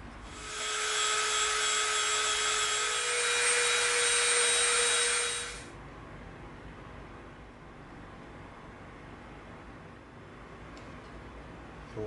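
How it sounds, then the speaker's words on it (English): A Dremel rotary tool whines steadily as it rounds the edges of an EVA foam handle butt end, a close, high buzzing run of about five seconds that cuts off into quiet room tone. "we're going to Dremel around the edges to get a nice round detail"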